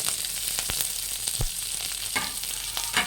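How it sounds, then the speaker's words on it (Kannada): Mustard seeds, cumin, urad dal, chana dal, curry leaves and Byadagi chillies frying in hot oil, a dense continuous sizzle with small crackling pops, close and steady throughout. "ಎಣ್ಣೆ ಕಾಯ್ದಿದೆ, ಸಾಸಿವೆ ಹಾಕ್ಕೊಳ್ಳಿ ಫ್ರೆಂಡ್ಸ್"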